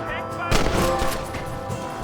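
Gunfire in Red Dead Redemption 2 plays as a loud, close shot with a sharp crack about halfway through. Smaller shots and rumbling echoes follow in quick succession, with game sound underneath.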